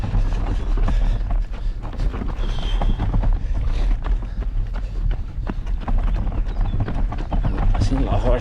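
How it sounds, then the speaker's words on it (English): Horses clip-clop on a bumpy stone road near Berclau, France, their hoof knocks blending with steady wind rumble and a runner's own footfalls, with a voice heard throughout. "I was wondering where the horses were."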